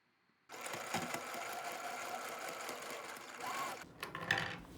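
Sewing machine basting the side seams of a costume, running in one continuous fast stitching burst after a brief quiet start, then slowing and stopping with a few soft clicks near the end.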